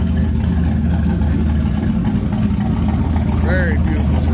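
A 1983 Chevy K10 truck with an LS swap, Edelbrock-controlled and rated at about 700 hp, idles with a loud, steady, deep rumble that never changes for the whole stretch, and a brief high chirp rises over it near the end.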